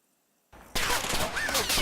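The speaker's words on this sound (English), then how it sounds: "it's not long before my pickets come under heavy fire" Sniper gunfire crackles in the Combat Mission video game after a short silence, then a sudden loud, sustained wash of shots and battle noise that stays dense to the end.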